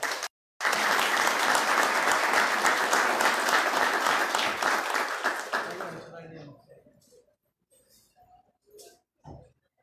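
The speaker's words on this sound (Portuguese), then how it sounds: "Com uma salva de palmas." Audience applause at a municipal council solemn session awarding honorary citizen titles, a loud sustained round of clapping lasting about five seconds before fading out, followed by scattered quieter sounds.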